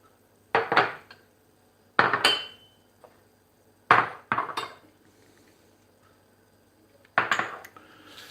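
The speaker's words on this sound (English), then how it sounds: "I'm just going to move these out of the way" Dishes and pans clatter as they are shifted aside on a kitchen counter, with four separate bursts of clinking and knocking spaced a second or two apart, close and fairly loud, with quiet gaps and no talking.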